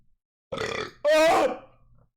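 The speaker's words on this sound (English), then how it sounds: "I have a burp coming, forgive me." A single loud, drawn-out human burp follows a shorter throaty lead-in, heard close and alone in a quiet room before trailing off.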